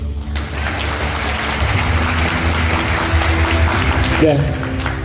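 Audience applause fills a talk on financial freedom, a steady dense clapping that carries throughout, with a voice briefly heard over it near the end.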